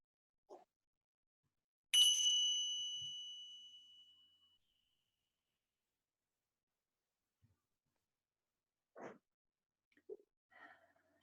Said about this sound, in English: So I'll just ring the bell to start